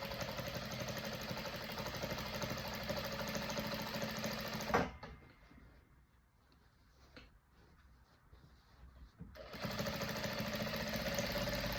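A sewing machine stitches fabric for a vest, its loud, steady, buzzing whir running unbroken before stopping for a few seconds of quiet handling noises, then starting again at full speed with no talking.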